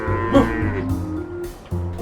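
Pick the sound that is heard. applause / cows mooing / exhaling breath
cows mooing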